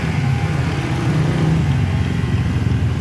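A speedboat engine drones steadily at a Telaga Sarangan lake race in Magetan, East Java, a continuous low rumbling hum that stays even and fairly loud throughout as the boat moves slowly.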